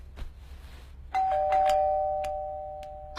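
A doorbell rings once in a quiet home, a clear, loud chime that rings out and slowly fades.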